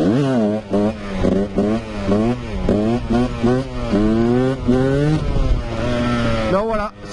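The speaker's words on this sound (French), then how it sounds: "c'était le dernier petit wheeling du coup sur une surface plate" A Husqvarna 125 motorcycle engine revs hard during a wheelie on flat ground, a loud rising and falling whine repeatedly climbing in pitch with gear shifts, close and dominant.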